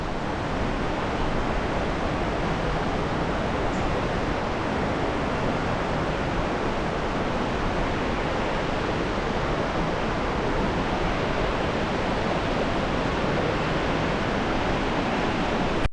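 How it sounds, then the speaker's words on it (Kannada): Nandini river at Kateel flowing in a steady, dense rush of water that holds an even roar throughout with no voices. "ನೋಡ್ತಿರ್ಬೋದು ಕಟೀಲಿನ ನಂದಿನಿ ನದಿ"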